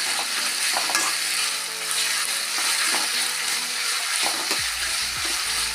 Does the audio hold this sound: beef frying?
yes